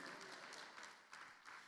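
A church congregation claps together during an evangelical service, a dense, steady wash of many hands with rhythmic swells, moderately distant and with no voices over it.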